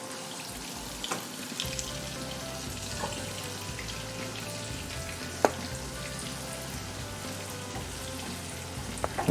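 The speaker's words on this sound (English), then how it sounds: "We're kind of frying, or shallow frying it would be called, in our pan here." Shrimp shallow frying in butter in a pan, a steady close-up sizzle with crackling pops and occasional sharper spits, continuous and fairly loud with no talking over it.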